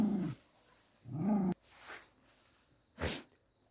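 A hunting dog out on an afternoon hunt gives a few gruff, growling barks at close range, spaced about a second apart, ending with one sharper, louder bark.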